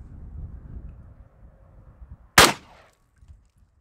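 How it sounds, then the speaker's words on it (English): A single sharp, loud gunshot from a pistol caliber carbine firing cast bullets cracks out close by over quiet outdoor background noise and decays quickly. "I shot off to the side"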